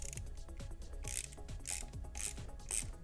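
A socket wrench ratchets a bolt into a Boba Fett jet pack prop, giving a steady series of rapid clicking pulls about every half second, heard close up but quietly with no talking.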